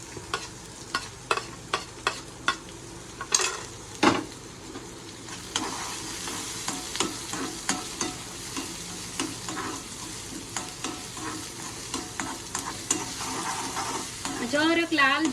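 Finely chopped capsicum and onion sautéing in a pan, with a steady sizzle under repeated scraping and stirring strokes of a spoon, close and clear.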